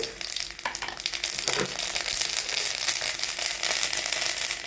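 Mustard seeds splutter and crackle in hot coconut oil in a pan for a drumstick-leaf thoran, giving a close, continuous sizzle with dense popping bursts.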